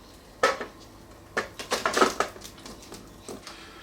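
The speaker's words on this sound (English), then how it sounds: "carefully transfer our chocolate biscuit mixture into the pan" Chocolate biscuit mixture tipped and scraped into a cake pan, heard as a few sharp metallic clinks and scrapes of utensil on pan, with a cluster of busier clattering in the middle and lighter taps afterward.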